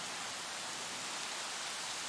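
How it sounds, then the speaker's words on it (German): Steady rain falls in the dinosaur park management game Jurassic World Evolution, a dense, even hiss that holds at the same level throughout without any voices. "kriege ich gleich am ganzen Körper Gänsehaut, wenn ich diesen Regen höre"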